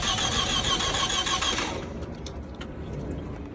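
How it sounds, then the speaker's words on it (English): A 2007 Toyota Camry engine cranks on a jump box at a city auction lot without catching. A loud, rapid, rhythmic churning lasts nearly two seconds, then cuts off to a quieter, rumbling background. "Doesn't sound like it's out of gas or not firing, one of the two. Trying to start."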